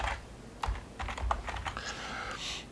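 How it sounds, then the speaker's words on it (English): Fingers tap out a short word on a computer keyboard, close and crisp, with several quick key clicks in an irregular rhythm and no talking. "And I'm just going to type no"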